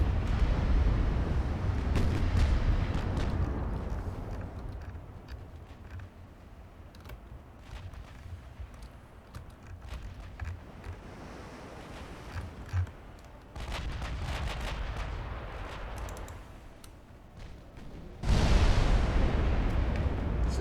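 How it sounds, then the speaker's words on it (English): Distant booming six-inch naval gun salvos in Ultimate Admiral Dreadnoughts, low rumbling blasts rolling over a steady ocean-like hum, with a heavier report near the end. "Six-inch gun hit that destroyer again."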